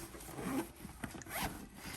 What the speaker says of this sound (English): And then it has a zipper pocket right here